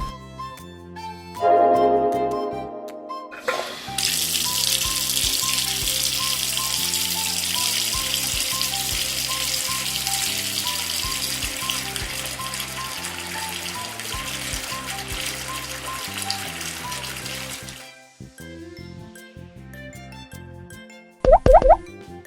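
Orbeez water-bead balls are washed under a tap: a steady hissing stream runs for about fourteen seconds, close and even, over soft background music, with a few plops before and after.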